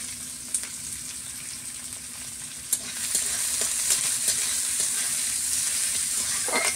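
Chopped onions fry in hot oil in a wok for a village-style vegetable panta pulao, a steady close sizzle with scattered crackles and occasional stirring clinks, growing slightly louder toward the end, no talking.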